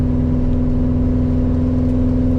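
A 2013 Subaru WRX rumbles steadily while driving, a loud, continuous low engine drone heard from inside the car with no voices.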